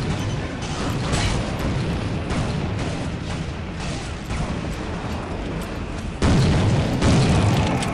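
Plastic explosive blast in the Soldier of Fortune video game: a continuous loud, rumbling roar with dense low-end booms, swelling further near the end, with no talking over it.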